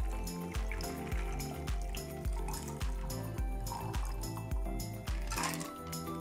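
A spicy margarita pours and trickles steadily out of a cocktail shaker with faint clinks, over a quiet rhythmic background beat.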